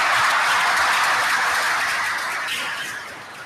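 An audience at a township committee meeting gives police officers a round of applause, a dense wash of many hands clapping that gradually fades toward the end.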